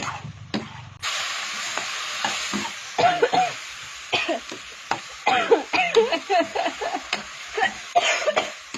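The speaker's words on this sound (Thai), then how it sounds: "ไข่ดาวเด้อไข่ดาวจ้า สุกสุกนะ" Eggs fry in a pan with a steady hiss of sizzling, broken by bursts of crackling spatter and scraping stirs close up, with a few faint voices.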